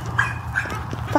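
Young puppies from a litter yip, bark and whimper close by, with a few short high-pitched cries and barks scattered over a low background rumble.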